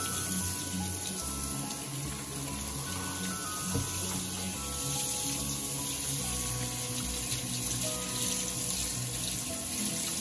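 Tap water runs steadily while shrimp are washed under it in a kitchen sink, a continuous close splashing stream with no talk.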